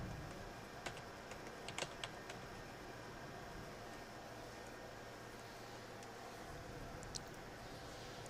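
A computer keyboard being used to type a Windows Server 2008 R2 command, faint scattered keystrokes in a few clusters over a steady background hum, with no talking.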